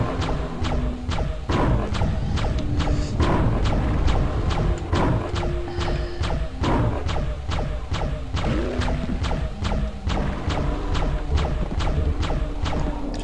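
Enemies attacking in the dark-fantasy shooter Hexen, a steady run of loud, close thuds and impacts repeating at a brisk, irregular pace throughout.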